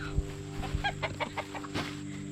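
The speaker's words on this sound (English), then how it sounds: "Chicken's got our scraps." Backyard chickens cluck busily while pecking at kitchen scraps, a steady run of short, close clucks over a constant background hum.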